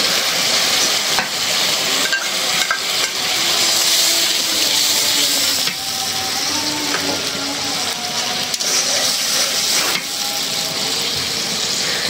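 Mustard paste is stirred into a frying pan of coconut paste, with a steady close sizzle and repeated spoon scrapes and splashes, and a few faint background voices.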